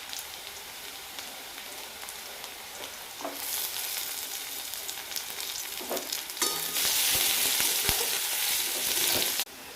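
Crushed garlic hits onions already browning in hot oil, setting off a close sizzle that swells louder, with a few stirring scrapes and no voices.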